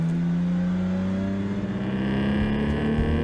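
PRO3 series race cars run on a circuit during a Group 5 race, a loud continuous engine drone with a strong steady pitch that rises slightly, close and unbroken, with no talk.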